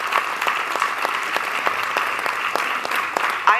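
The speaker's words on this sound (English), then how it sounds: "A big round of applause." An audience claps steadily at a talk, a brisk, even wash of applause with distinct individual claps standing out over about three and a half seconds.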